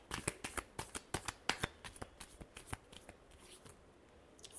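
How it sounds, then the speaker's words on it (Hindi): Tarot cards being shuffled by hand close up, a quick series of sharp riffling snaps that gradually soften and slow, with no talking. "Last shuffle."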